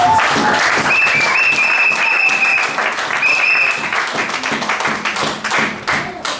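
A church congregation applauding during an evangelical service, sustained loud clapping from a large crowd with some whistles and cheering voices, tapering slightly toward the end.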